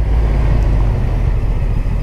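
A Honda NT1100 touring motorcycle engine pulling at low revs on the road, a steady deep rumble mixed with wind roar, loud and continuous with no talk.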